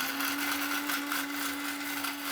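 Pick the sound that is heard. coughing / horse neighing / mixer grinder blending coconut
mixer grinder blending coconut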